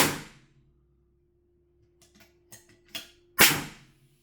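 A sharp puff of air from a silenced FX Dreamline 5.5 air rifle, then quiet, followed by a few faint clicks and a stronger hissing burst as pressure is released, close by.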